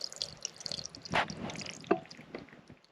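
Broth being poured from a container into a crockpot makes soft liquid splashes and drips, a few gurgling spills heard close up.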